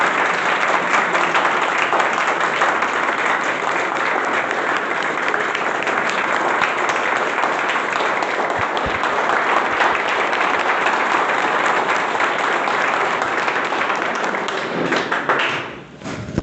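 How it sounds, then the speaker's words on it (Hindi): A room of IAS academy students claps hard and continuously in thick, even applause that keeps going for a long stretch, then thins out and dies down near the end. "अनिल भाई साहब के लिए तालियां बजाइए।"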